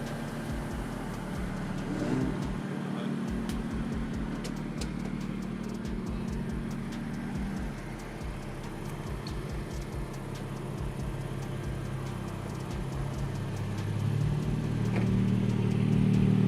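Turbocharged car on a chassis dyno at a tuner's dyno day, running E30 at 13.9 psi of boost for about 430 horsepower and sitting on air suspension; a loud steady engine drone with a deeper surge of throttle near the end.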